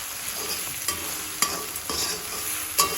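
Stirring poha ingredients frying in a pan, a steady sizzle with a few sharp scrapes and clicks of the spoon against the pan, close and moderately loud.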